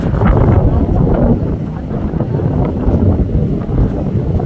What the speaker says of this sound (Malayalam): തണുത്ത കുളിർക്കാറ്റുകൾ, അമ്പലത്തെ കാറ്റ്